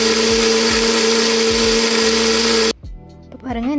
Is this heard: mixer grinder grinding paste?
yes